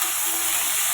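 Onions and tomatoes fry in a pan for tomato chitranna, a steady, close, even sizzle and hiss that holds throughout with no voices.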